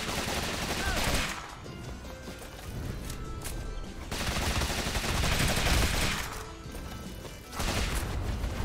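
Rapid gunfire from a character shooting upward in Rogue Legacy 2, sounding as dense crackling bursts that swell in several waves and keep going with no break.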